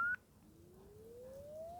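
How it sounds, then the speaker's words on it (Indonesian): Test tone from the earpiece receiver of a Samsung Galaxy A52s 5G phone, a faint thin whistle that climbs slowly in pitch after a brief higher beep at the start. "Receiver atau earpiece, suara penerimaan telepon."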